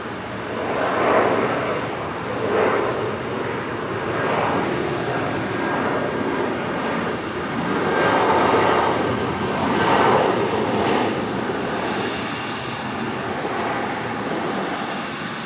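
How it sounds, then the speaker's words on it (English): A Jetstar airliner arriving from Newcastle touches down at Brisbane Airport, a steady broad jet roar with gentle swells in loudness throughout, moderately distant and with no talking. "Jetstar 484 just about to touch down. Coming in from Newcastle."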